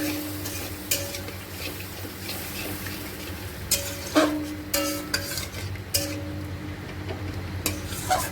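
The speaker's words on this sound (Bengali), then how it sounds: "জল ঢেলে দেবো, দিয়ে একটু নাড়বো।" Pabda fish curry is stirred in a pan after water is poured in. Soft background bubbling runs under intermittent sharp clinks and scrapes of a spoon against the metal pan, close and fairly quiet.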